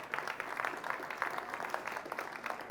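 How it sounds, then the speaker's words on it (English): A crowd applauds as a guest walks on stage at a Kenyan panel event on music and general elections, with brisk, moderately quiet clapping that keeps a steady texture throughout. "Let's give him a round of applause as he comes up."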